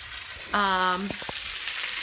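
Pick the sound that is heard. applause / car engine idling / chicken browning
chicken browning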